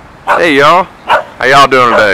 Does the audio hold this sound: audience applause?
no